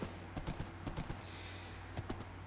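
Horse hooves clip-clop in Minecraft, a quiet run of light, irregular knocking steps spread across the moment with no talk over them.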